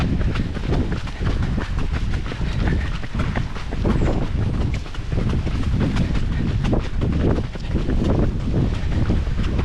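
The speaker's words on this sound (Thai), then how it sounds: "วิ่งลมทะเลตอนตอนเช้าลมดีเหลือเกิน" Steady, buffeting morning sea breeze rushes over the microphone of a runner during the Pattaya Marathon, loud and continuous with no pauses.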